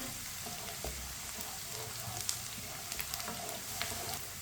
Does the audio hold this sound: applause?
no